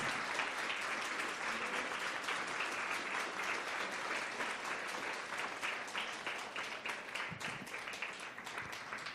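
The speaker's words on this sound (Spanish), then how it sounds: "Dale ese aplauso al Señor con todas tus fuerzas." A church congregation applauds, a dense sustained roar of many hands clapping that continues evenly throughout and tapers slightly at the end.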